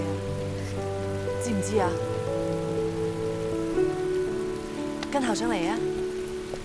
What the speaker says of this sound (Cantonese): 所以行雷同埋落雨